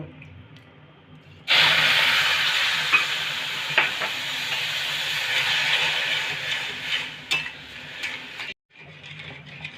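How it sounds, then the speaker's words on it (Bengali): Sugar and water syrup boiling in a pan on the stove for Bengali ladoo, a loud continuous hissing bubble close up, with a few clinks and a brief dropout near the end. "এটা ফুটা পর্যন্ত অপেক্ষা করব ফুটে গেছে"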